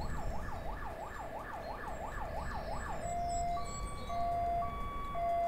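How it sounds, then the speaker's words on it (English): Wailing ambulance siren in First Responder Simulator, rising and falling in a steady cycle for about three seconds before switching to a steadier two-tone pattern, clear and close over a low background rumble. "Oh, the ambulance is on scene now."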